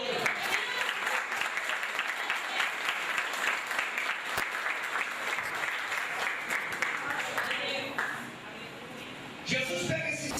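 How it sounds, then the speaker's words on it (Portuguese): Church congregation applauding during a sermon, steady mass clapping at moderate distance under faint voices, thinning toward the end as a voice rises again. "Você pode aplaudir o nome do Senhor"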